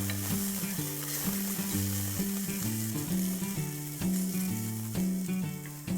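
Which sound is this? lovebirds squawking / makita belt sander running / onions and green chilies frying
onions and green chilies frying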